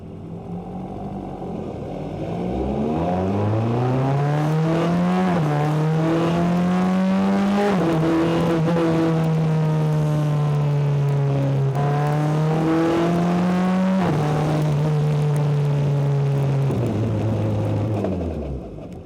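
A high-revving BAC Mono sports car engine drones loudly from inside the car on a road in the rain, pitch climbing and dropping sharply with each gear change.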